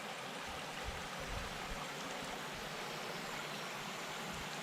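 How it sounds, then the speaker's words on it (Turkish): Water flows steadily in a stream at an outdoor cooking spot, a continuous broadband rush with no breaks. It is moderately loud and close, with no voices over it. "Suğun sesi"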